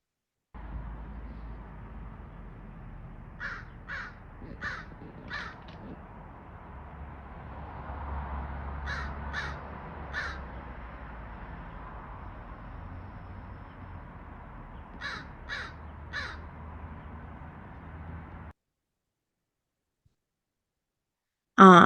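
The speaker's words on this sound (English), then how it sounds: "we're going to be talking about the American crow, specifically its caw," American crow cawing in response to danger, recorded from a balcony: three bursts of three or four sharp, evenly spaced caws separated by pauses over quiet outdoor ambience, followed by silence.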